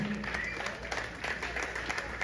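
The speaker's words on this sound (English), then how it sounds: "Give yourselves a round of applause" Audience at an outdoor steel orchestra anniversary celebration giving a round of applause, a dense crowd clapping with some voices mixed in, sustained and fairly loud for the whole moment.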